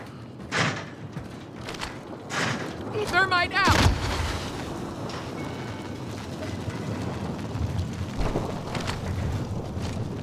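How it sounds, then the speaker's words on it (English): Precision airstrike explosions in Call of Duty Warzone on Rebirth Island, several loud thumping blasts close together with a heavy slam near the middle, amid game noise and players talking. "Enemy precision airstrike"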